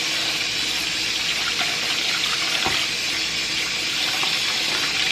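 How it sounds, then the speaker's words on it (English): Cold tap water runs steadily into a sink of rice being rinsed, a continuous close splashing gush with no talk. "I'm gonna rinse the rice off with some cold water to get some of that extra starch off of it."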